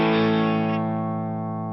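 One chord strummed on an electric guitar with no pedals on rings out and slowly fades over under two seconds. The tone is full and sustained, close and clear, with nothing else heard.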